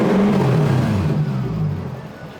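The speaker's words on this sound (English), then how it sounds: "Man, it sounds good with no mufflers though." A Toyota 1UZ-FE V8 running with no mufflers and a slight misfire revs loudly and close by. It gives a deep, throaty roar that rises and then settles back into a rumbling idle.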